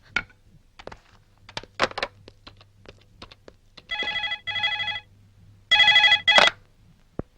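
A phone's ringback tone sounds in paired bursts, twice, amid scattered clicks and taps like keys being pressed.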